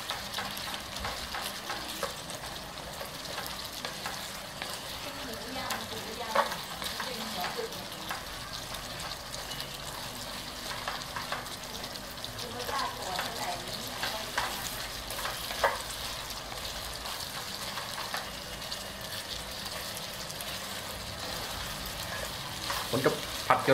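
Spicy wild boar stir-fries in a pan with a continuous moderate sizzle and frequent scraping stirs throughout, steady and close, with no talking over it.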